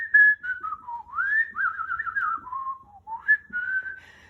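A person whistles a wandering melodic tune alone, the clear pure tone sliding up and down in sustained phrases with brief pauses, close and fairly loud.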